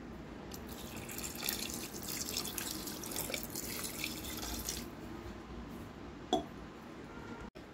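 Water poured from a glass into a pressure cooker holding mutton with turmeric and salt, a steady close splashing trickle running for several seconds, ending with a sharp clink.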